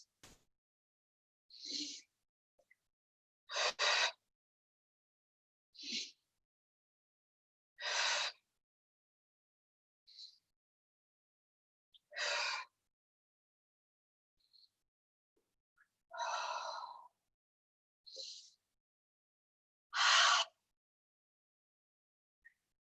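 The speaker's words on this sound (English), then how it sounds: "You can breathe in through the nose and out through the mouth." Slow yoga breathing during a Hatha class, in through the nose and out through the mouth, with about ten separate soft breath sounds spaced a couple of seconds apart against near silence.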